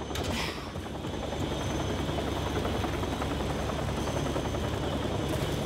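A helicopter in the video game Still Wakes the Deep drones loudly and steadily, its rotor thrum filling the scene without a break and no voices over it.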